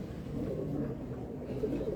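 A Kasuri pigeon gives a low, steady murmuring coo, near and unbroken, set against a soft background hum.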